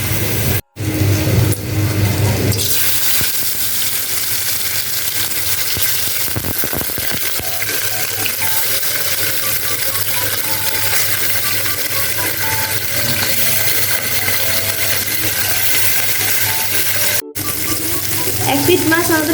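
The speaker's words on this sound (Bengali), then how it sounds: "এখন আমরা মাছটি ভেজে নেব।" Chapila fish frying slowly in mustard oil, a steady close sizzle and crackle running throughout after a brief clatter at the start, with no voices.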